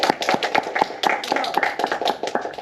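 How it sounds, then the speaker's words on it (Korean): A small group of students claps at a university brownbag seminar in a campus study space, the separate hand claps sparse and distinct rather than blending into a roar, fairly close and moderately loud. "박수 한번 치시고"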